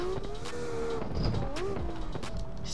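In the CarX drift video game, a drift car engine revs and shifts pitch with a raspy exhaust note, rising and falling continuously as the car is driven hard in traffic.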